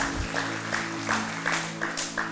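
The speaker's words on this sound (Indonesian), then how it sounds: "Tepuk tangan buat Tuhan Yesus kita." A church congregation at a Sunday service claps in a steady rhythmic beat, loud and even, over a low sustained keyboard tone.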